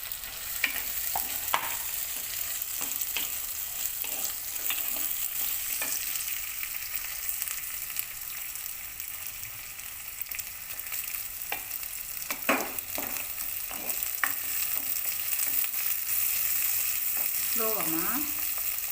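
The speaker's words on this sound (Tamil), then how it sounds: "வெங்காயம் போட்டு கொஞ்சம் நேரம் குக் பண்ணலாம்." Onion sizzles steadily in a hot pan as a fish curry is started, a quiet, even frying crackle with occasional scrapes of stirring throughout.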